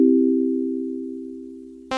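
A steady Yamaha DX7 FM synthesizer tone with stacked harmonics holds and slowly fades for about two seconds toward a sine wave as the modulator cuts off, then a brighter buzzy tone cuts in abruptly at the end.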